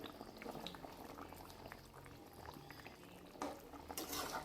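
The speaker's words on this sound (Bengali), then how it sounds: "ঝোলে ফুটে গেলে আমি এর মধ্যে দিয়ে দেব মাছ। ভেজে রেখেছিলাম যেগুলো," Fried koi fish slides into a thin curry broth already at a rolling boil, with steady close bubbling and a few soft clinks of utensils, no one talking.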